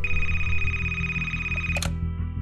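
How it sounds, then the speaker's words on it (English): A telephone ringing: a steady electronic ring tone held for almost two seconds and then cutting off abruptly, loud and close, with no voices. "Nancy gets this astounding phone call"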